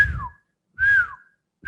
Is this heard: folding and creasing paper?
no